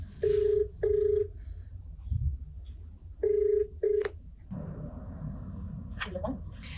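An outgoing phone call rings back with two double-tone rings, clear electronic chirps over low room rumble, followed by faint background noise and a brief click.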